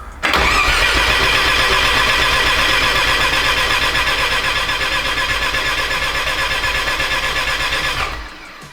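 A Mazda RX-7 FC rotary engine, stored for years, cranks with a rapid rhythmic churning for about eight seconds at close range, loud and steady before tapering off as cranking stops.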